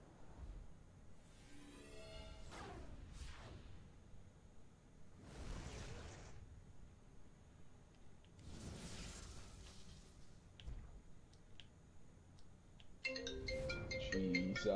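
An in-game phone rings in the NBA 2K video game with several swelling, whooshing ring bursts spaced a few seconds apart, ending in a brighter electronic chime.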